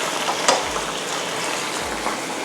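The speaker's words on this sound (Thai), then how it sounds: "จัดปลากระพงใส่จานแล้วนะคะ ก็ราดซอสลงไปเลยค่ะ" Stir-fried chili bean sauce poured over plated sea bass: a soft continuous sizzle and wet trickle with a couple of faint clinks, steady and close.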